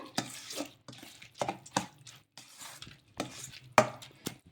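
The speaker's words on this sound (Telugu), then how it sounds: "ఇలా పెరుగు కూడా వేసుకొని ఒకసారి మొత్తం కూడా బాగా కలిపేసుకుందాము" Rice batter being mixed with curd by hand for instant idli, thick wet squelches and scrapes coming in irregular bursts of close, quiet strokes separated by short pauses.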